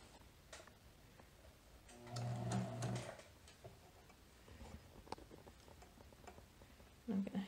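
A sewing machine runs in a single short burst of about a second while stitching a seam on a Vogue 9057 garment, moderately loud and close, with quiet handling noises before and after.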